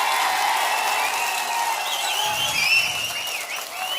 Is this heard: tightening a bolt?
no